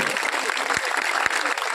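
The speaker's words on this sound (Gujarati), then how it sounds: "હજી એકવાર જોરદાર તાળીઓ પાડો" A crowd breaks into loud, continuous applause at a Ram temple idol consecration ceremony in Vijarakhi, a dense wash of many hands clapping at once.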